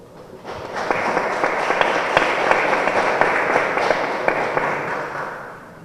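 Loud, sustained applause from a conference audience in Spain welcoming a speaker at an international family law conference, a dense broadband roar with scattered sharp claps that swells quickly and holds steady.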